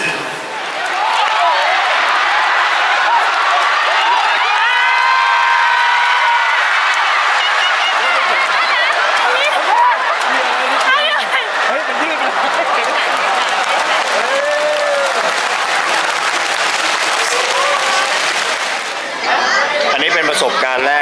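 A rugby match crowd in a Fukuoka, Japan stadium applauding and cheering, sustained clapping and chatter of many people at a distance with a brief dip near the end, and voices talking throughout.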